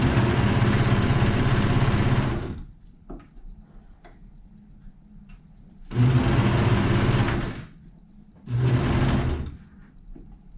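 A sewing machine runs a zigzag stitch in three bursts of fast, steady stitching, each separated by a quiet pause.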